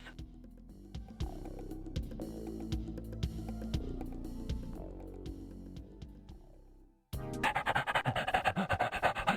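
A dog pants rhythmically in quick repeated breaths in The Adventures of Willy Beamish, then a denser burst of rapid panting takes over after a brief drop.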